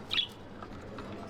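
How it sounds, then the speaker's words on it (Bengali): A single short bird chirp rings out on a home balcony where pet doves and budgerigars are kept, followed by faint quiet rustling, soft and brief. "আমি সবাইকে আমার পাখিগুলো দেখাচ্ছি, একটা ঘুঘু"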